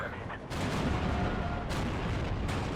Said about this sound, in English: their mortars are hitting us now over here